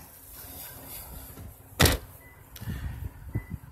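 A 2016 Toyota Prius Two Eco hatchback is shut once with a single sharp, loud thud, followed by a few softer knocks and rattles against a quiet outdoor background.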